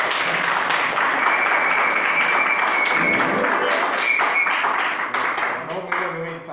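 A congregation at a college Holy Mass for a feast day applauds together, a dense, steady wash of clapping that lasts about six seconds before thinning out near the end, with voices mixed in.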